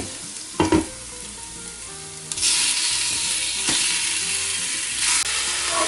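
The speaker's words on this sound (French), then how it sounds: "Nous ajoutons ensuite les cubes de bœuf." Beef cubes hit a hot pot after minced garlic and onions, for a beef stew in an Instant Pot, setting off a sudden loud sizzle that swells and holds steady, with a few clanks of a utensil against the pot.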